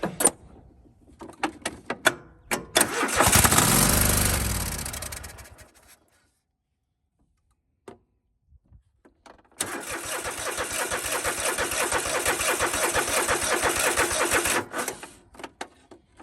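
A John Deere tractor engine cranks in winter with a rising whine, stops after a couple of seconds, then after a quiet gap cranks again with rapid loud chugging that lasts several seconds, heard close.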